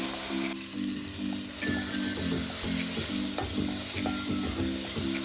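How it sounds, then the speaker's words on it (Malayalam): Turmeric, garam masala and coriander powder sizzle in a hot pan for crab curry, a steady close frying hiss broken by rhythmic scraping strokes as the spices are stirred. "മഞ്ഞൾപ്പൊടി, ഗരം മസാലപ്പൊടി, മല്ലിപ്പൊടി എല്ലാം ഇട്ട് നന്നായിട്ട് വാട്ടി നന്നായിട്ട് എടുക്കുക"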